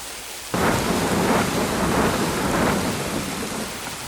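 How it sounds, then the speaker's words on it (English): A winter storm of freezing sleet and wind outside an elk-hunting camp in New Mexico breaks in suddenly after a brief quiet, a dense, loud rushing roar of wind and pelting precipitation that holds steady and close with no voices. "We've got freezing sleet. We've got wind."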